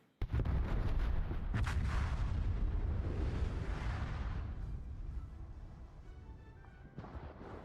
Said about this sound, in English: Conga line torpedoes from the Daring are connecting on Icy Nader Salem